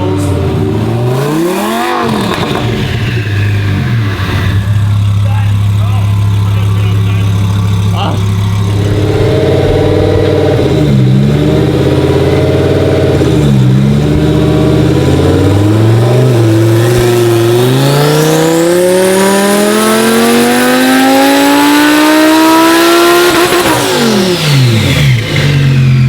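A twin turbo Audi R8 revs hard on a dyno, its loud engine climbing through repeated rising pulls to a high, sustained scream before dropping off, close and continuous.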